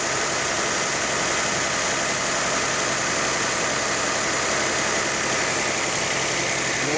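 A car engine idles steadily while warming up, a car with a suspected head gasket leak and overfilled, hot power steering, giving a constant close mechanical drone with slight vibration and no break.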